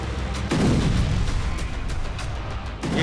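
Artillery and rocket explosions in Gaza, a dense roar of heavy booms and rumbling blasts overlapping continuously, loud and distant-sounding with no speech.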